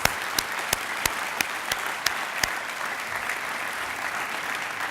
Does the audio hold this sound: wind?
no